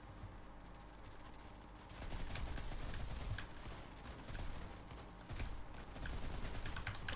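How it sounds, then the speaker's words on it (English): Golden Hans and Gret weapon firing in Modern Combat 5, bursts of fairly faint gunfire that pick up after two seconds, with clicks and other game sounds in between. "They've changed the sound of the weapon."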